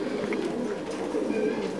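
Thai Titan meat pigeons coo steadily in a breeding loft among nesting birds and chicks, a low rolling murmur of several doves layered close and continuous, with soft rustling beneath and no talk.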